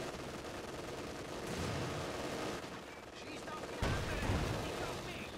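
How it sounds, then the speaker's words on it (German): Mortars fire and shells burst in the World War II strategy game Company of Heroes 2, with two heavy booming impacts landing a couple of seconds apart over constant battle noise, while someone talks. "Jetzt schießen meine Mörser gleich auch noch drauf"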